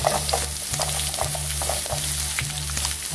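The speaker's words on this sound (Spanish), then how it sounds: "Aquí ya puse el sartén con tantito aceite. Vamos a agregar lo que es la cebollita" Chopped onion sizzling steadily in a skillet with a little oil, a dense continuous frying hiss with faint stirring scrapes, close and fairly loud, no voices.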